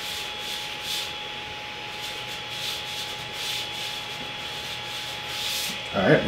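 An Ender 3 Pro 3D printer nozzle scrapes across an unlevel bed, giving a steady faint rubbing hiss over a constant high motor whine, with a brief louder clatter at the end.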